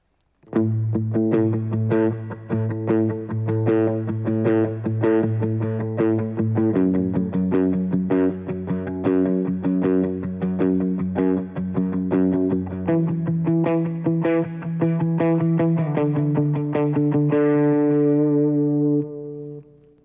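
A clean electric guitar picks a steady, repeating pattern of single notes, drenched in reverb and delay so each note rings into the next, shifting chords every few seconds and ending in a fading tail, with no talking.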